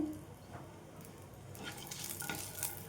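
Garlic cloves frying in a pan with curry leaf chutney ingredients, a light sizzle broken by a few scraping stirs and small utensil clinks, quiet and close.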